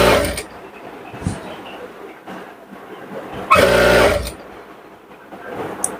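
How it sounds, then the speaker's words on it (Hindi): Domestic sewing machine stitching a plate-style Patiala salwar, running in short bursts with a loud continuous run of about a second in the middle, close and without speech. "अब यहां से सिलाई लगाई कुछ इस तरह से लगा लेना है।"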